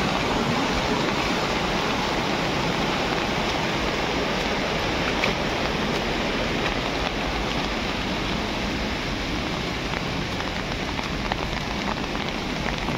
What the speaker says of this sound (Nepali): यो खोलाले चाहिँ बगायो